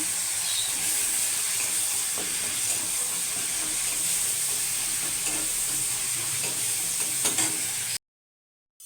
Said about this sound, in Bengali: মশলাটা একটু কষিয়ে নেব, হলুদ দিয়ে দেবো